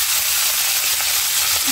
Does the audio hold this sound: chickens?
no